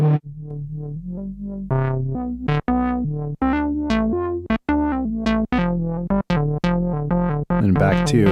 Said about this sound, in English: this is what clean sounds like